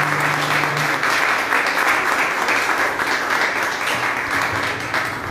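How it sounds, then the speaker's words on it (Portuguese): A church congregation applauds for Jesus at an evangelical service, a dense, steady wash of clapping that fills the room for several seconds with no pause. "peço a igreja dê uma salva de palmas para Jesus"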